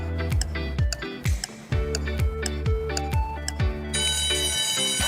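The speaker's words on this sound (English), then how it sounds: "Timer starts now." A countdown timer ticks steadily through a live science quiz broadcast, with regular loud ticks about every half second over a bright, repeating electronic tone pattern and no talking.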